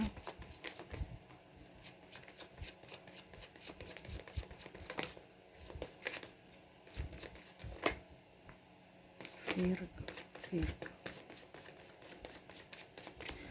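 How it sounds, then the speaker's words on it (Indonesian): Tarot cards being shuffled by hand over and over in quick bursts of crisp riffling and flicking, close and fairly quiet, with a few brief spoken words. "Oke, sekali lagi ya, kocok kartunya."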